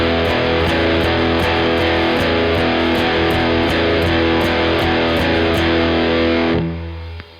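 A heavily distorted electric guitar riff of chugging power chords in a steady repeating rhythm, loud and alone, ending with a brief ringing decay.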